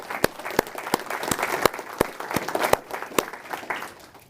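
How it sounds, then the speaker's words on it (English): An awards ceremony audience gives a round of applause, scattered sharp individual claps over a soft hall background, fairly sparse and moderate in level. "So let's do a round of applause so we can hear on the screen."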